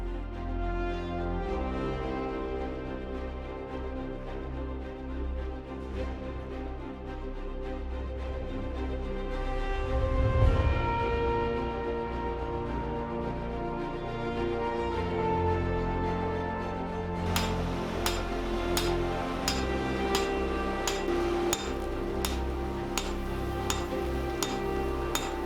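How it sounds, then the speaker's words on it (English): Hammer blows forge a fuller into a steel sword blade, with sharp metallic strikes repeating at a steady rhythm in the latter part over a continuous background. "forging the fuller in like this actually spreads the material, makes your blade a little wider"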